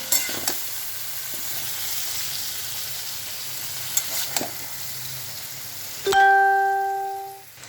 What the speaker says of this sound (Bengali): এবার ভেজে নিচ্ছি একে একে চিকেনগুলো, আর ভেজে নিচ্ছি।